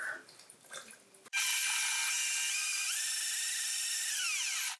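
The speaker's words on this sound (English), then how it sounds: "And a little bit of water." Water pours into a mixture of peanut butter and beef gelatin as a sudden, steady, bright stream that runs for a few seconds and then stops abruptly after a quieter opening.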